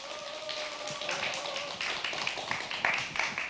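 Audience applause welcoming a calligraphy and seal-engraving instructor at an outdoor lecture at Taehwaru pavilion, Ulsan: a steady patter of many hands clapping at moderate distance, fairly quiet and continuous throughout.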